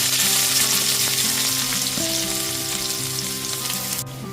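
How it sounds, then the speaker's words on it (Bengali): A medium-sized chopped onion frying in a pan after eggplant, a loud steady sizzle and hiss with a low tonal hum underneath, the sizzle easing slightly toward the end. "এরপরে এতে দিয়ে দিচ্ছি একটা মিডিয়াম সাইজের পেঁয়াজ কুচুনো"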